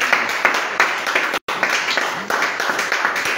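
A prayer-meeting congregation claps and applauds steadily in a dense, continuous burst, with a brief break near the middle.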